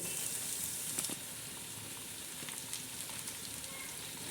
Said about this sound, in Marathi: सगळ्या बाजूने असा मस्त खमंग मसाला भाजत आहे आपला